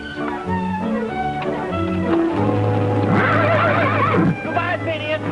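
A horse left behind by convicts whinnies loudly with shaky rising calls over a sustained musical score, while people talk; hoof clatter is not clearly distinct.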